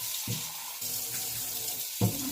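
Water runs steadily from a kitchen tap as a bowl is rinsed out while making double chocolate muffins, with a few soft knocks and splashes near the start and around two seconds.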